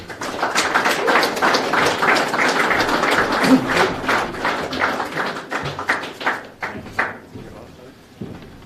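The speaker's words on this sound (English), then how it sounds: "Give him a big round of applause." Dense, steady audience applause fills an award ceremony for the Alastair Lynch Medal, loud for several seconds before thinning and fading toward the end.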